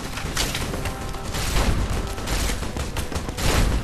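Grenades explode in a Fallout: New Vegas firefight, loud overlapping blasts and gunfire-like bursts in a dense, continuous barrage, with heavier booms rising near the end.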